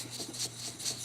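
Dry clean brush stippled over excess paint on a metal-look model finish of the Millennium Falcon: soft, close bristle rasping in quick repeated dabs, steady and quiet with no voices.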